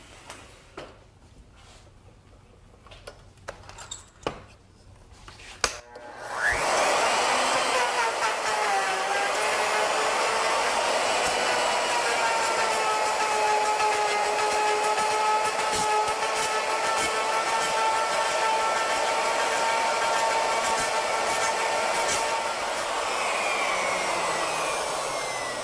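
A wood router cutting a board with a dust-collection vacuum running, a sharp loud whine starting abruptly after a few quiet knocks and sustaining steadily with a slowly shifting pitch.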